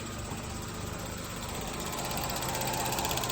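Rattling from underneath a 2020 Chevy Trax, a steady mechanical chatter over the engine's continuous hum, close and even throughout with no speech.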